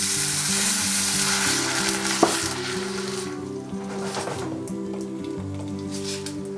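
Parsley, tomatoes and white wine sizzle loudly in a hot pan in Italian-style home cooking, a dense continuous frying hiss with a low hum underneath, one sharp clack midway, and the sizzle easing slightly later.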